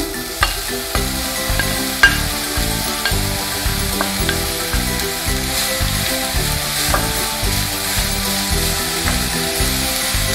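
Onions fry in hot oil in a pan for a chicken and egg stuffed bun filling, giving a steady, close sizzle with repeated scraping and stirring knocks throughout, and no talking.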